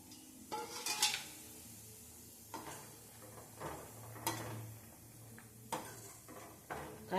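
Banana flower being stirred into a boiling pot on a stove: a spoon clinks and scrapes against the pot in scattered knocks over a low bubbling hum, close by and fairly quiet, with no talking.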